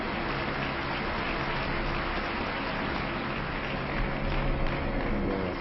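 Cardinals applaud Pope Benedict XVI with a loud, steady, dense clatter of many hands that stays even and rises slightly near the end.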